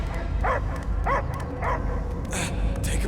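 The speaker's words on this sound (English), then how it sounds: "I hear only barking." A dog in the game Guardians of the Galaxy barks and yips in a few sharp bursts over a low rumbling game soundscape, fairly close, with brief voices around.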